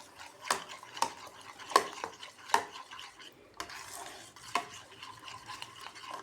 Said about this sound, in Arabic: صافي غنطلقهم في الحليب على هذا الشكل هذا.